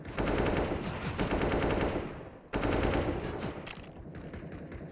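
Two players trade sustained automatic rifle fire in a CS:GO pro match on the Nuke map, dense continuous bursts lasting a couple of seconds, a brief break, then another long exchange.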